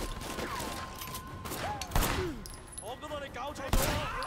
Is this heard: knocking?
no